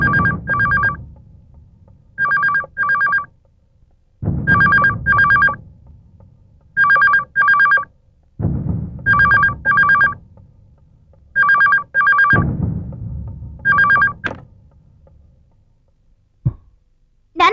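A telephone rings in repeated double bursts, six or so cycles with short pauses between, loud and close, with faint low rumble underneath.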